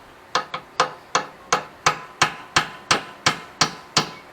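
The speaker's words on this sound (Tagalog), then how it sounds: "Yung unang tornilyo, mahigpit, ha. Pukpukin nyo lang, ha." A steel ball race is hammered into the steering head of a Yamaha NMAX scooter, a dozen sharp metallic strikes in a steady rhythm, loud and close with short ringing decays and no talk.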